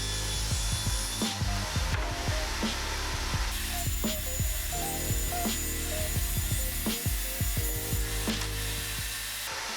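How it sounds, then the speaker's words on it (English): Hand saw cutting through 1/2-inch Baltic birch plywood panels in a woodworking shop, a steady run of close, rasping strokes with repeated sharp knocks and pauses between passes. "I cut down some 1/2-inch baltic birch for the panels"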